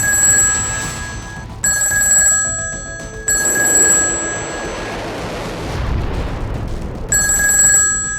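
A telephone rings in repeated electronic bursts of bright tones separated by short gaps, loud and close, over a low rumbling background.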